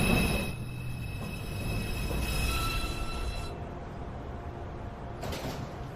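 A New York City subway 2 train at the 207th Street station gives a steady rail rumble with high, sustained wheel squeal tones that cut off partway through, then a brief sliding-door burst near the end.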